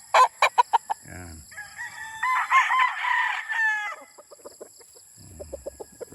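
An 8-month-old Sweater over Boston Roundhead gamecock crows once, clear and close, with a drawn-out, wavering call after some short clucks. More sharp clucking sounds before and after the crow.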